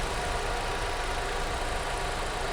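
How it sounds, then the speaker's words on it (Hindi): A 2023 Maruti Brezza ZXi idles with the AC compressor running, giving a steady, even hum with no revving that holds unbroken throughout, close and alone. "आवाज सुनना गाड़ी की।"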